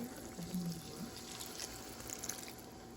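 Water poured to thin chicken broth for an egg sauce, a soft steady trickle and splash running close by for a few seconds, with a faint low background hum.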